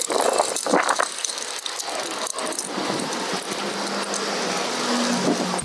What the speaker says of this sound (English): Torque them down.